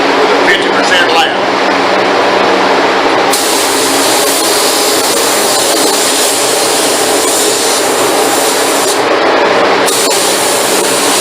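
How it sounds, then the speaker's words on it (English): Loud continuous hiss of a spray gun spraying finish on a stained door in a paint booth, broad and steady, cutting off briefly near the start and again near the end, with a faint hum underneath. "Now we're in the booth preparing to spray."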